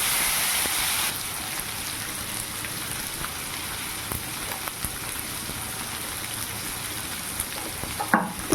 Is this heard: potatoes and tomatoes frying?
yes